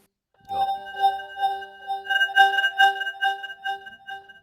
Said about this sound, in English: I think that any bit crush sounds like phenomenal on all melodies